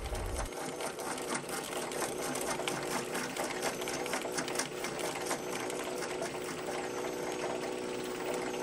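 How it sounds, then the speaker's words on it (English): A Filabot Reclaimer granulator shredding PLA plastic runs with a continuous, dense mechanical whir and rapid rattling clatter, steady and close throughout. "Just watch here how quickly the output halts from the granulator."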